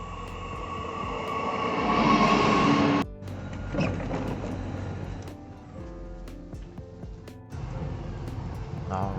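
A train pulls into a small French town station, a loud rumbling and screeching roar building then cutting off abruptly, followed by lower mechanical clanks and hums and another burst of rolling noise near the end.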